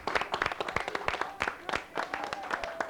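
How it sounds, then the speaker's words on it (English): A studio audience at a televised quiz game claps at moderate loudness in a fairly sparse, uneven patter of individual hand claps, with some voices faintly underneath. "give yourselves a round of applause"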